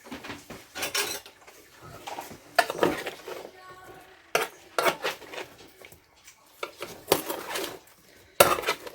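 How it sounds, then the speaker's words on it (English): A spoon stirs salt and vinegar potatoes in a metal pot, making a run of irregular scraping clanks and knocks at close range, with quiet gaps between bursts and no talking. "And give it a stir."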